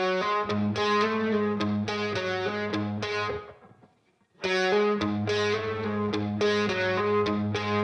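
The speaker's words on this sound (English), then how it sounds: "So this is the sound of the guitar as it is already." Distorted electric guitar plays chords and riffs, loud and upfront, with a brief drop to near-silence midway before the playing resumes.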